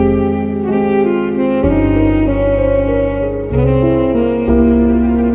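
A jazzy music sample for a trap beat plays loud and alone, with warm, full sustained chords, a deep bass underneath and smooth chord changes every couple of seconds.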